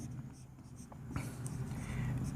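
Pen or chalk writing on paper during a math lecture on metric spaces, with soft, faint scratching strokes and a brief tap, heard under a quiet room hum.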